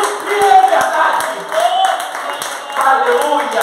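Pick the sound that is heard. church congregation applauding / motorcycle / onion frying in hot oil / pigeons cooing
church congregation applauding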